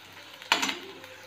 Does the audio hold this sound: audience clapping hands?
no